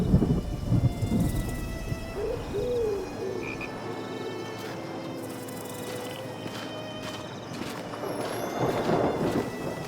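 Rain falls steadily in a jungle thunderstorm in the Tintin Reporter: Cigars of the Pharaoh game, with rolling thunder early on and frogs croaking throughout, all without speech.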